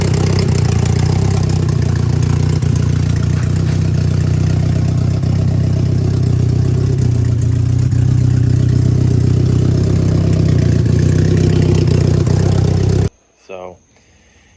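A Nissan 240SX S13 engine idles loudly and steadily with its MAF sensor unplugged, a deep, even rumble for most of the time, then cuts to near silence with a brief thump.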